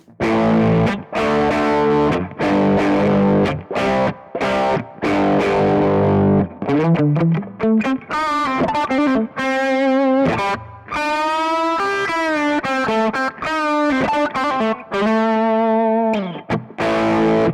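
Electric guitar through a Kemper Profiling Amp distortion effect with drive set to zero, a gritty overdriven tone, chords giving way to sustained single-note lines, steady and loud throughout with no voices.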